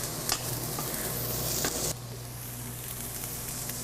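Onions and fennel sautéing in a pan, with a loud, continuous sizzle and stirring scrapes that ease down to a steadier, softer sizzle partway through, no talking.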